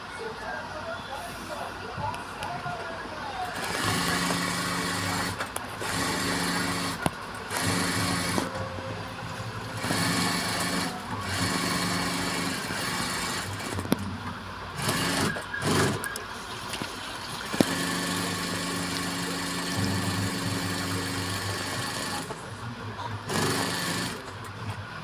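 A sewing machine stitches lining onto a fabric piece for a small puff, running in long loud close stretches of rapid mechanical whirring, broken by short stops and occasional clicks.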